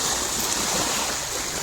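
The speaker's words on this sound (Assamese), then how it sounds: "চাওক পানী কেনেকৈ ঢৌ খাই গৈ আছে" Elephants wade through a rocky hill stream in Assam, the water rushing and churning around them in a steady, close, unbroken wash with no pauses.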